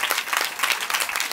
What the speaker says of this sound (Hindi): और ज़ोरदार तालियों से